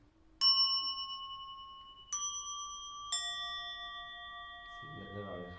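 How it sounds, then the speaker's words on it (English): Small bells are struck freely, three separate strikes whose bright, clear tones ring out and overlap as they slowly decay, close and quiet, before a voice begins to speak near the end. "Sometimes the bells are not in harmony, and I like this."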